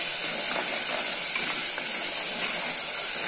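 Ground tomato paste sautés in a pan for a white pumpkin tamarind curry, making a dense, continuous hiss of sizzling that runs evenly through the whole short stretch with no voices.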